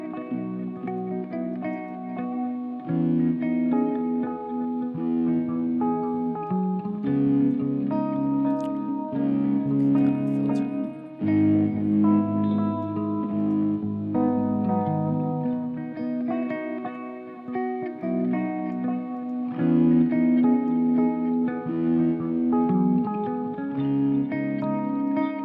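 Electric guitar played through an amp with a distortion effect, sustained chords and notes ringing with a thick, echoing tone, continuous and prominent with no talking.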